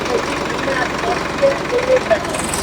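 One of ten tractors brought to flood-hit Firozpur district in Punjab idles with a steady low diesel rumble, continuous and fairly close, with faint voices in the background.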